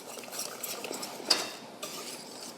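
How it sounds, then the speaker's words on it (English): A spoon stirs a hot pudding mixture with melting butter in a pot, giving soft, quiet scraping swirls with one brief louder clink partway through, alone without talk. "Now we need to stir this until our butter melts."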